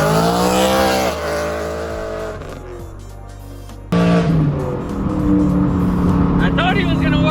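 A BMW M3, partly wrapped, drives off with a steady engine note under loud, excited talk and music-like layered tones; engine pitch shifts partway through, and a louder burst of sound starts midway.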